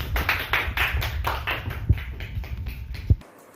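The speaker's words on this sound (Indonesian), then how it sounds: "Tepuk tangannya dulu." Applause from a group of students in a classroom, dense clapping sustained for about three seconds before stopping abruptly, with a couple of louder claps standing out.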